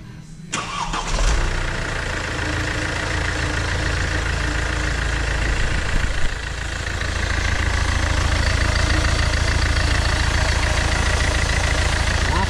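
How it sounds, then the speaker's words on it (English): A Mercedes C220d with the OM651 diesel engine cranks briefly and fires, then settles into a steady, loud diesel idle with a dense, constant clatter that rises slightly toward the end. "we're going to give the car a big start"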